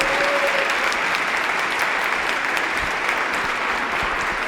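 Sustained, dense applause from an audience at a Rotary club speech contest meeting, steady and loud throughout with no break.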